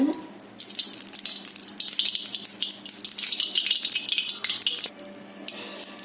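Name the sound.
pouring oil into a cooking pan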